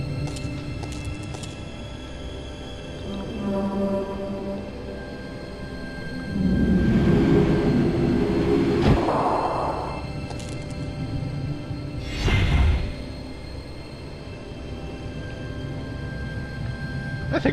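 A tram arriving in the adventure game The Dig: a low mechanical rumble swells and holds for a few seconds, with a brighter whoosh and a brief thump later over a steady humming ambience.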